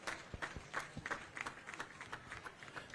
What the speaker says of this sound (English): Another big round of applause for the guest of honor.